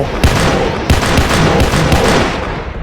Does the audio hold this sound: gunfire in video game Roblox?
yes